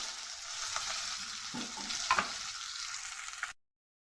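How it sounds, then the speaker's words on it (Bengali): Chopped onion, two green chillies and a little nigella seed fry in hot oil, a steady close sizzle with a couple of stirring scrapes, ending abruptly after about three and a half seconds. "পেঁয়াজটাকে ভালো করে ভাজবো।"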